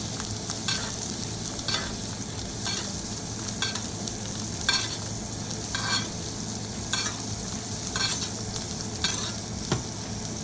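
A ribeye steak sears in a pan while it is basted. A constant loud sizzle runs under regular scraping strokes of a spoon, about one each second, heard close with no talking.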